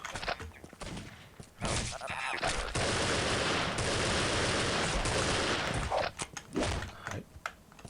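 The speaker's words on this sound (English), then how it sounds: "Okay, automatic Glock. If I had to guess, it's probably a Glock 18, because I know that's an automatic machine pistol." Sustained automatic fire from a Glock 18 machine pistol in the shooter game Postal 2: dense, loud bursts that run for several seconds with brief gaps, with a voice speaking over the opening moments.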